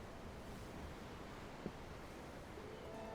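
Ocean waves in the Tales of Arise game, a faint, steady wash of surf blending with soft wind noise, with no voices.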